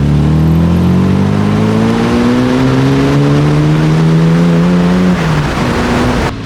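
Ford EF XR6 engine at full throttle, a loud sustained roar with rising harmonic pitch as it pulls hard for about five seconds, then the note drops as the throttle eases.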